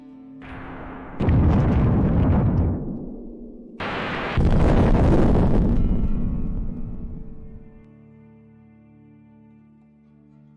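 A HIMARS missile strikes a Russian convoy, giving two heavy, roaring blasts a couple of seconds apart. Each swells into a long, rumbling wash that slowly fades into a low, lingering hum, with no voices.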